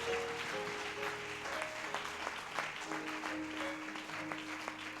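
Church congregation clapping for God during a service, a dense burst of many hands applauding together, steady and close, with faint voices and a sustained organ-like tone underneath.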